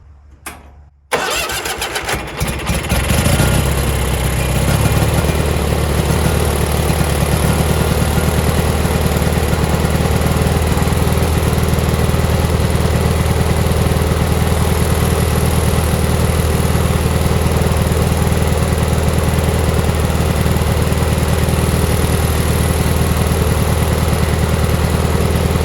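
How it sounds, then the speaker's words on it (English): A Gravely Professional riding mower's Kohler Magnum 18 engine cranks and catches, then settles into a loud, steady low-throttle idle that drones on close by with no voices. "I want to start the engine back up and see how it idles"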